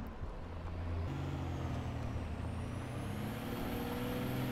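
Heavy engine rumble and clanking of an enemy tank on the move nearby in the War Thunder video game, a steady low drone with no speech.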